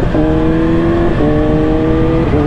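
The engine of a 2020 Kawasaki ZX6R motorcycle revs loud and close as it accelerates through the gears, its droning pitch climbing and then dropping briefly at each quick shift.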